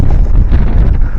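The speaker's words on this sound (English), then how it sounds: "Very windy today." Loud, gusty wind buffets the microphone during roof shingling work on a very windy day. The rumble is constant and close, with no talk over it.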